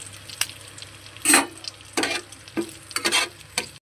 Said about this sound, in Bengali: ওটা কারি পাতা দিয়ে ভালো করে ভেজে নিলাম।